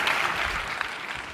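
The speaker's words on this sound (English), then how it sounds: "Let's give Tom a big round of applause." Audience applause after a conference keynote talk, a brief, moderately soft burst of many hands clapping in a hall, fairly even and fading slightly.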